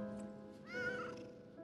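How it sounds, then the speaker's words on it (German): In the Lies of P game, a single cat meows clearly for about half a second over a steady low background hum, with no talking. "Mag uns die Katze mittlerweile?"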